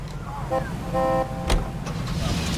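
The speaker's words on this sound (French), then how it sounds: "arrêtez de klaxonner n'importe comment" A car horn in the game L.A. Noire honks in short bursts, a couple of brief toots over low traffic rumble, followed by a sharp knock, with a voice speaking over it.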